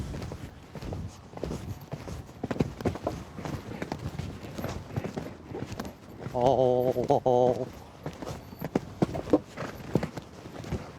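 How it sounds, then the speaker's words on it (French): Horse hooves striking ground during a show jumping exercise, irregular thuds and clip-clops of varying loudness, joined midway by a voice calling out briefly. "Le cheval a un tout petit peu touché sur la deuxième barre de l'auxerre."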